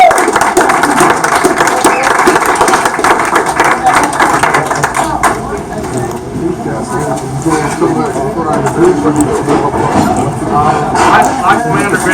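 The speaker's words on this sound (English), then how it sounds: "Let's give Commander Radley a round of applause for doing this program." A crowd at a Sons of Confederate Veterans gathering in Florida gives a round of applause, dense steady clapping that dips briefly midway and then swells again, with some voices mixed in.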